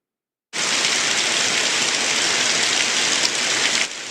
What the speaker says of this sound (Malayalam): ഇന്നലെ രാത്രി മുതൽ പുലർച്ചെ വരെ നിർത്താതെ പെയ്ത മഴ